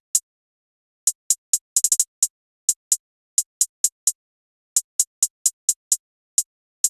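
A simple, repetitive FL Studio hi-hat pattern for a trap beat, crisp ticking hits with quick rolls and triplet bursts, fairly quiet and alone.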